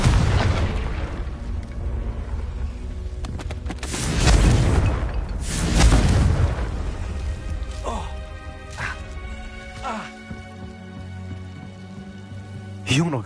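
Confringo fire spells blast in Hogwarts Legacy, with two heavy booming explosions followed by crackling, debris-like bursts and scattered magical impacts under game ambience.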